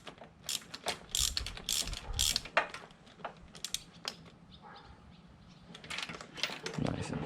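A ratchet clicks in quick bursts while tightening spark plugs into the cylinder head of a 2006 Suzuki GSXR600 motorcycle, close and crisp, with pauses between strokes and a few mechanical clanks.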